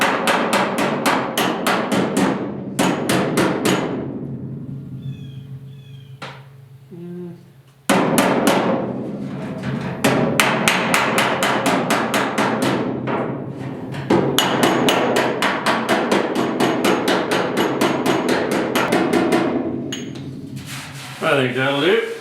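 Repeated hammer blows knock out a dent in a 1972 Ford 4x4 truck cab, with steel struck against a dolly of a similar curve; loud, ringing metallic hits come in quick bursts and runs with short pauses between them.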